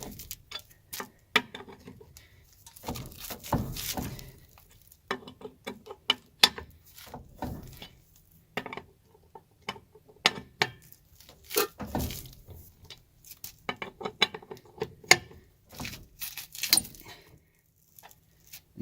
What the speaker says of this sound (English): Just break the lug nuts loose, just like this, in no particular order.